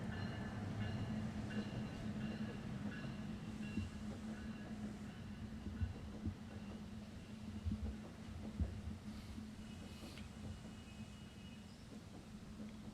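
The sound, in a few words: train passing by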